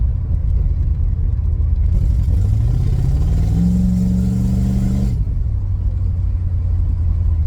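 A cold car engine with a Quadrajet carburetor idling with a deep rumble, then bogging and revving up for a few seconds before dropping back to idle, loud and close.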